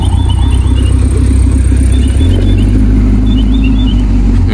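A Dodge Hellcat's low, steady engine rumble at a Magic City Octane cars and coffee meet, fairly close and continuous, deepening slightly midway, with no talk.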